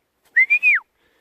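A single gundog training whistle sounds a heel command to a Labrador puppy, one bright rising-and-falling note broken into three quick pulses, loud and close against silence.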